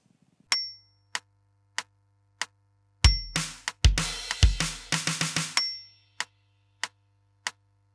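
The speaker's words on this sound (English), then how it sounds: "We play five snares on the and of three and 4E and A." A drum kit plays a quick run of five snare hits as a fill from the bridge into the chorus of a song, with cymbal crashes, over a steady ticking click that continues alone afterward.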